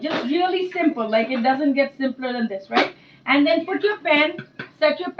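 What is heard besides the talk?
No everyday noises stand out.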